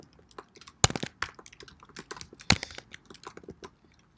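Computer keyboard keys clack irregularly as code is typed, a string of quick light taps with two sharper, louder key strikes, close and alone.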